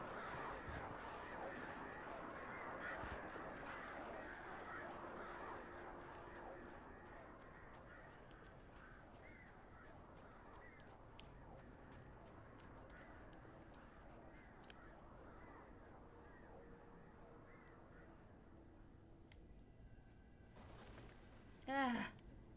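Crows cawing as ominous 'death birds' in Alan Wake, a flock's harsh calls scattered over a constant low rumble of ambience, with a sharp louder burst near the end.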